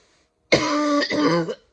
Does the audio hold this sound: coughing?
yes